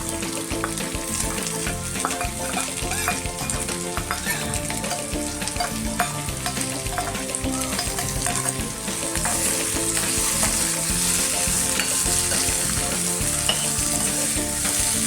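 Onion frying with chopped green chillies in a pan for a traditional safflower-leaf dish, a loud, constant close-up sizzle with scraping and stirring strokes throughout, no voices.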